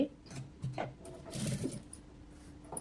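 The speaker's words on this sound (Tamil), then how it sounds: "இது மேலே அழகாக ஒரு படிமான தையல் போட்டுருங்க" A sewing machine stitches a top-stitch seam along a blouse in short, close whirring runs that stop and start, separated by quiet pauses and faint handling noises.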